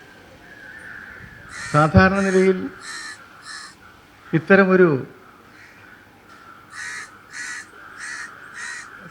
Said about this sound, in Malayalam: ഇന്നും ധാരാളം കാക്കകൾ ഇവിടെ കൂടിയിട്ടുണ്ട്.